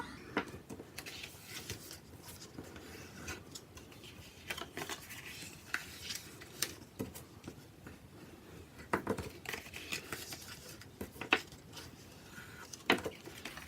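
A bone folder presses and slides along scored paper lines for a gift box, making soft, scattered rubbing and tapping strokes with sharper clicks, close up and fairly quiet.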